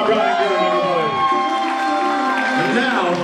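Wedding guests at a reception cake cutting cheer and whoop loudly together. The voices rise and fall in a continuous, close burst of crowd excitement.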